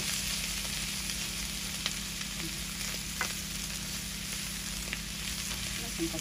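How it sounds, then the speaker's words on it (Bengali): Bitter gourd frying in a pan, a steady close sizzle of hot oil with faint stirring clicks scattered through it, continuous and even throughout. "করলা ভাজি হয়ে গেছে"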